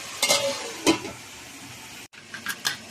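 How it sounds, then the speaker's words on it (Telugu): A spoon scrapes and stirs crab curry sizzling in a pan, with a few distinct stirring strokes over a constant close frying hiss. "పీతలు అయితే తిప్పవచ్చు మంచిగానే శుభ్రంగా అన్నీ కలిసేటట్టు తిప్పుకోవాలి"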